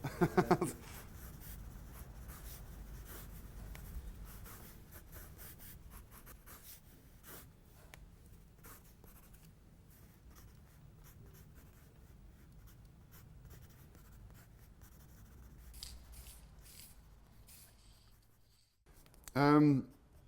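Pencil or pen scratching across paper while sketching comics, a continuous close rubbing with quick stroke bursts through most of the stretch, beginning and ending with brief bits of talk.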